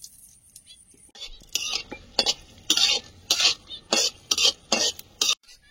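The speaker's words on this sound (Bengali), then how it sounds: "গোটা কত শুকনো লঙ্কা তেলে ভেজে নেব।" Dried red chillies are fried in oil in a kadai, and a spatula scrapes and stirs them in about nine sharp, rhythmic strokes after a quiet start. The strokes are close and loud, with only a faint sizzle.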